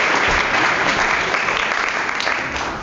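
Applause from a comedy club crowd for comedians, a dense, steady clapping that stays loud and fades slightly at the end, with no voices over it.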